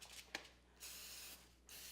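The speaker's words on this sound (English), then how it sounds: "olive oil spray" Olive oil spray mists over the top of a stuffed chicken roll in two short bursts of hiss separated by a pause, close and fairly quiet.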